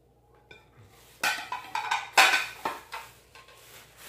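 Clear glass bowls clink and clatter as they are handled and set down, a run of bright, close knocks and rattles over about four seconds with no talk.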